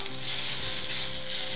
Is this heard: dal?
yes